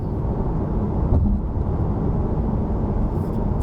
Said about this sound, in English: the only noise you can hear is actually from the tires.